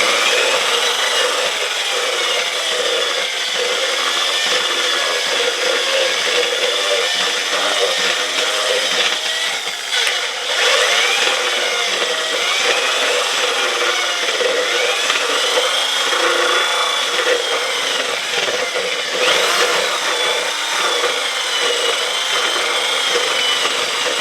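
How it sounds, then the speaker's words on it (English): A power drill whirs continuously and loudly as it churns a thick casting mixture for deer taxidermy reproduction parts, with a steady grinding, scraping texture throughout. "We'll take our drill and then we'll blend this all up."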